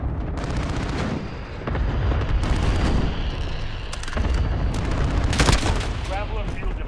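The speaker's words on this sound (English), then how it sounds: "Allied cluster strike inbound." Cluster strike blasts rumble through a Call of Duty: Modern Warfare multiplayer match, a dense run of booming explosions and crackling gunfire that stays loud throughout with repeated heavy impacts.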